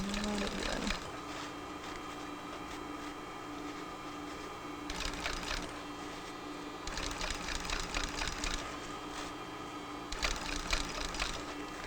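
A cylinder bed sewing machine stitches fabric in a steady mechanical whir, with louder bursts of faster stitching between quieter stretches, close by and alone.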